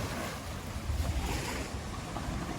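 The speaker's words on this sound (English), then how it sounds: "They're just hitting the bank now. Oh my god. Wow, that's pretty strong waves." Strong waves from the Brisbane River surge and slap against the creek bank in a continuous, close, loud wash, with gusty wind buffeting the microphone throughout.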